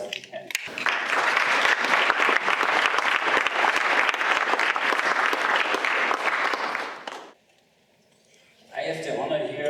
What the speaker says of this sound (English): Maybe we start with a big applause if we can.